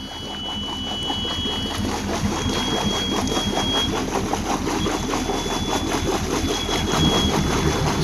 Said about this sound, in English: Port engine fires right up.